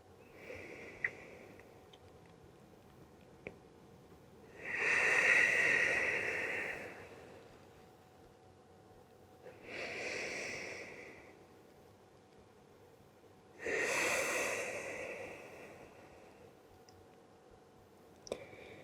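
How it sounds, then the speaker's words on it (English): Slow, deep breaths held in a yoga pose, three long airy inhale-exhale swells spaced several seconds apart, close and soft with a few faint clicks in between and no talking. "the deeper we breathe, the easier the posture becomes"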